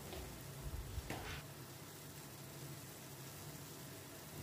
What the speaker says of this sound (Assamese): নিমখ আৰু হালধি দি এইখিনি মই পুনৰ লৰাই লৰাই ভাজি থাকিলোঁ।